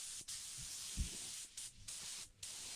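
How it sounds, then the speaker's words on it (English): Steady hissing spray from a spray gun applying sealer to a car at about 30 psi runs nearly throughout, briefly cutting out three times in short pauses, with faint low thumps underneath. "I believe I'm spraying it at 30 psi"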